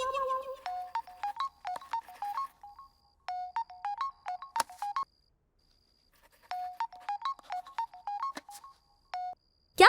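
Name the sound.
phone ringing before call is answered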